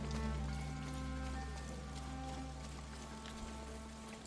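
Rain falls in the video game Ghost of Tsushima, a soft, even hiss of raindrops under a low steady hum, fairly faint and continuous with a small knock near the end.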